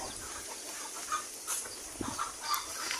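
Hens and chicks clucking and peeping on a Filipino backyard farm that also keeps pigs, a few soft calls scattered over steady ambient noise at moderate distance.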